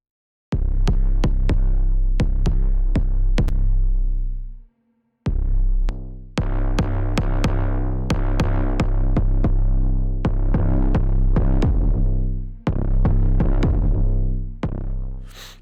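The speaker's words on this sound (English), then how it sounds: "So this is on our first one. Distortion is switched on. The bus compressor." An Umlaut uBeat pad plays a pulsing, throbbing synth line with distortion and bus compression, loud and sustained, with a brief drop near the start before the pattern resumes.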